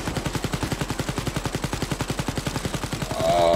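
Rapid automatic gunfire in the shooter Wolfenstein Youngblood, a loud, evenly spaced burst of shots close up that runs without pause and ends in a heavier blast.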